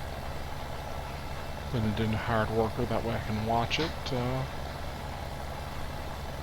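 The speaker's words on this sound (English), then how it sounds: "tractor can pull this seeder." A tractor pulling a seeder in Farming Simulator 17 drones steadily at a moderate idle-like level, while someone speaks over it partway through.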